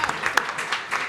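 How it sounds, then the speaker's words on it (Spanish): Short, sparse applause at a data protection and security forum, honoring the audio and video technician: a handful of distinct claps from a small audience, moderately quiet and over within about a second. "un aplauso para Juan"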